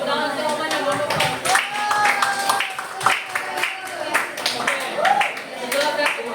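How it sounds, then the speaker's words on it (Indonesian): Hands clapping steadily in a classroom, a brisk continuous patter from a small group with voices mingled in throughout. "Tepuk tangan semuanya untuk"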